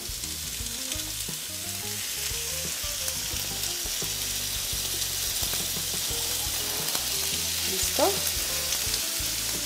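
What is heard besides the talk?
chicken sautéing in olive oil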